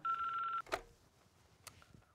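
A telephone rings once with a steady electronic warble, loud and alone, in a children's animated show, followed by a brief click and quiet room tone.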